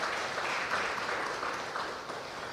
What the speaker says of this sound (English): A round of applause for the Caribbean Development Bank.